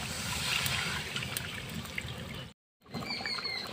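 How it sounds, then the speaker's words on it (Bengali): Spice-paste water poured into a pan of fish and potato curry makes a steady, soft trickling, liquid splash for a few seconds, then a short silent gap before more faint pouring and stirring. "এখন আমি জল দিয়ে দিচ্ছি, মশলা বাটার জল আমি দিয়ে দিচ্ছি।"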